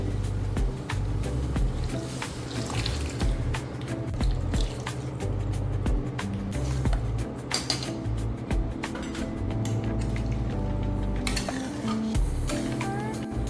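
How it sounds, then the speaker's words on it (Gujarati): Boiled dhokli broth is poured into a pot of Kathiyawadi vegetable curry, with liquid splashing and dripping mixed with utensil clinks and stirring against the pot, moderately quiet and close. "બાફેલી ઢોકળી કાઢીને પાણીનો રસ્સો કર્યો છે હવે એ આપણે આમાં એડ કરવાનો છે"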